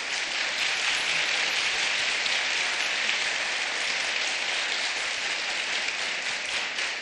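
Loud, dense applause from a seminar audience honoring the college principal, a steady wash of many hands clapping that holds unbroken for the whole stretch without any voices on top.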